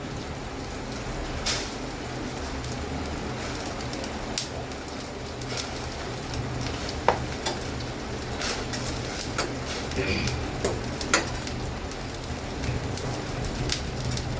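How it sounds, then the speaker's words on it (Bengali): Sugar syrup bubbles in a pan at a steady, dense crackling boil, with carrot pantua being added, and a few clinks rise above it throughout. "যেহেতু চিনির শিরাটা আমার অনেকক্ষণ ধরে ফুটছে, আমি এবার পান্তুয়াগুলো একটা একটা করে এর মধ্যে দিয়ে দেবো।"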